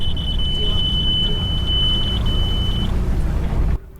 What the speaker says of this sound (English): all of a sudden the alarm went off. Oh, that was a warning bell